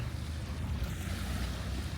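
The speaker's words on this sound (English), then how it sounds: "I don't know whether you can hear the waves or not." Ocean waves wash onto a beach as a steady low roar, with wind buffeting the microphone throughout and no voices.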